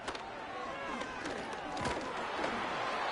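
Home crowd in a football video game, a steady uneasy murmur of many voices with scattered shouts and clatter, under a commentator's talk.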